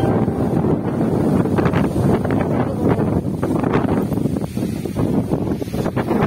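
Strong, gusty wind roaring loudly and continuously into the microphone over the Jatiluhur reservoir in a storm, buffeting with broadband rumble throughout.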